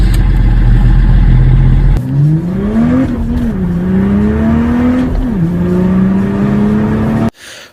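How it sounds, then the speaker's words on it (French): BMW 330D six-cylinder diesel revving up close, a loud idle giving way to rising and falling engine sweeps with a couple of throttle blips before cutting off abruptly near the end. "le son du 6 cylindres."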